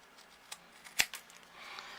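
Scissors trim craft material for a desk caddy, making a few quick, close snips with one crisp cut standing out, followed by a soft rustle of the material.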